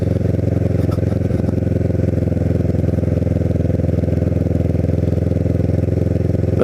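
Kawasaki Ninja 650R motorcycle ridden along an empty beach avenue in Cape May in January, a steady loud engine drone with a continuous throb throughout.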